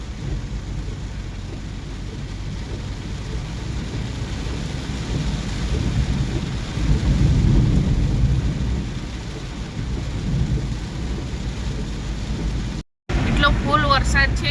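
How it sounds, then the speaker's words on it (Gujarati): Heavy monsoon rain pours down on a village in Bhiloda, Gujarat, with thunder rumbling low. The roar swells midway, briefly cuts out near the end, then returns, and faint voices come through underneath. "ભીલોડામાં બહુ જ વરસાદ છે."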